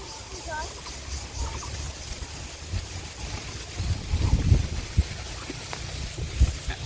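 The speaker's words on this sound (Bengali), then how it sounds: "কি পরিমাণ হাওয়া" Wind blowing at a riverside, gusting against the microphone with a low rumbling roar that swells in the middle, along with scattered faint background sounds.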